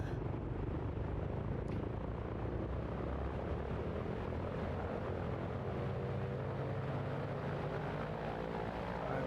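Aircraft engine, apparently propeller-driven, runs steadily loud and close at high power as it spools up for takeoff with flaps notched, a constant droning roar with no speech.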